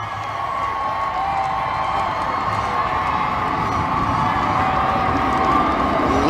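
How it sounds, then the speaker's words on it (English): Large crowd at an outdoor Make America Great Again political rally in Arizona cheering and shouting continuously, a loud, dense roar with whoops rising from the mass of voices. "Listen to the crowd."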